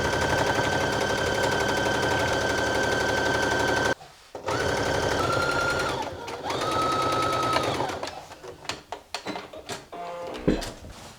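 A sewing machine stitches a waistband seam up close, running in a steady mechanical whir that pauses briefly and restarts, then breaks into short, uneven bursts and stops near the end.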